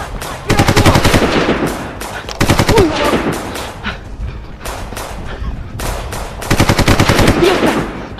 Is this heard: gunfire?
yes